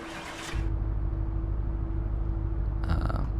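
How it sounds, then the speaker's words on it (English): Inline six car engine in Car Mechanic Simulator 2018 starting with a short cranking burst, then settling into a steady low idle rumble, with a brief rise in noise near the end. "We might be able to start up the car here."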